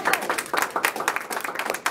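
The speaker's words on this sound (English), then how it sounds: "I would like to show my appreciation by asking the club to join me in a vicarious round of applause." Club members at an officer installation give a round of applause, a short, dense burst of many hands clapping at close range, with no talk over it.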